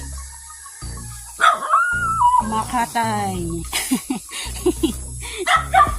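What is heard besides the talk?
dog barking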